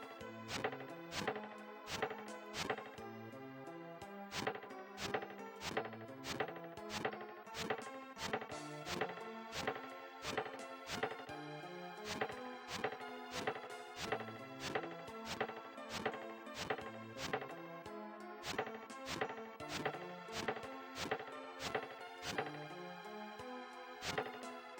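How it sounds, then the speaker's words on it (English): Tree chopping in the SNES game Final Fantasy Mystic Quest: rapid repeated sharp thwacks in an irregular steady rhythm, layered over tonal game music, with no talk. "when I'm chopping trees to the left, I hear it in my left ear"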